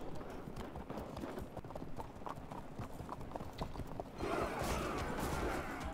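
Numidian light horse cavalry moving in the Field of Glory II strategy game, heard as a dense, steady clip-clop of many hooves. The hoofbeats grow louder and fuller toward the end, with no speech.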